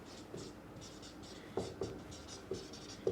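Chalk or marker strokes on a board during a chemistry lesson, faint scratchy writing with several short distinct taps and strokes spaced irregularly across the moment, quiet and close, no voice.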